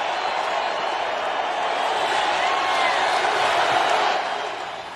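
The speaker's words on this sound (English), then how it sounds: "Listen to the crowd." Huge stadium crowd roaring and applauding for a president, a dense, sustained wall of cheering and noise that holds steady and swells slightly before easing off near the end.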